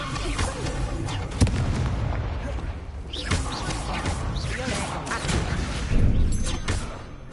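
Confringo spell explosions in Hogwarts Legacy, several booming blasts and crashes amid dense combat noise, loud and close, with a voice heard among them.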